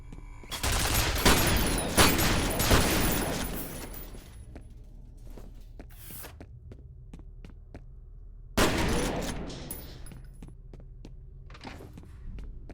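Automatic turret gunfire in the shooter game F.E.A.R. comes as loud rapid bursts over roughly the first four seconds, then a quieter stretch with scattered sharp clicks, and another short, heavy burst later on.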